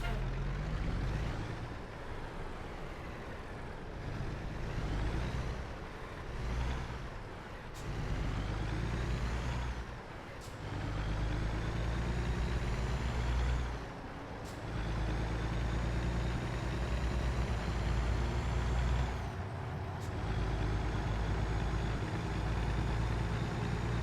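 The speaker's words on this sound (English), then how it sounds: "Jake brake." A Peterbilt 567 day cab dump truck in a game mod rumbles steadily with a deep, continuous engine-brake drone, with short air-brake hisses breaking in at intervals across the run.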